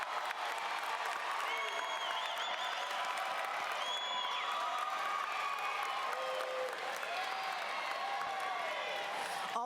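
A high school graduation audience gives families a long, steady round of applause, dense clapping throughout with a few whoops and cheers rising over it.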